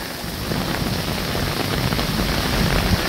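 Heavy rain pours down steadily in Houston, Texas, a dense unbroken wash of water that stays loud and close throughout, with no voices heard over it.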